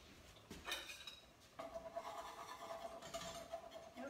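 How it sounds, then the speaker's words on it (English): A whisk stirs white sauce in a pot, giving faint metallic clinks and scraping against the pot, with a soft swishing stir in between at low volume. "check on the white sauce and do a little twirl with the whisk"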